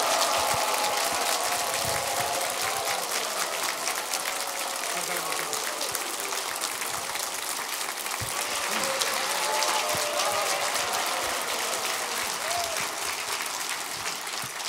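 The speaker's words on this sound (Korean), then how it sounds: "제가 소개할 때에 환호성과 이 자리에 서실 때까지 박수 멈추지 않고 강중치 보낼 수 있는 최고의 박수로 우리 모시겠습니다." A church congregation at a Sunday service applauds and cheers as a university president guest speaker comes up, a long, steady wash of clapping with occasional voices rising through it.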